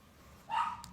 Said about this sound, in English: Oh, that dog hates the Amazon truck.